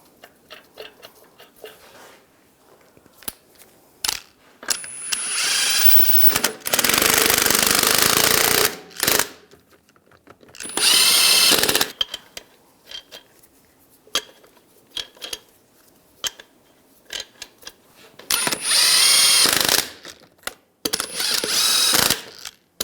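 A power tool runs on and off in loud bursts, rattling as it snugs lug nuts onto a 2011-2018 Ram 1500 wheel, with metallic clinks and handling noises between the bursts.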